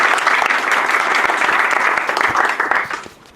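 An evening tech-talk audience applauds the speakers: dense, steady clapping from a full room that holds for about three seconds and then quickly dies away.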